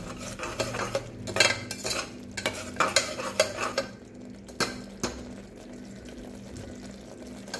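A spoon scrapes and clinks against a pan in irregular strokes over a soft, steady simmering bubble of bottle gourd curry, then stirring eases off.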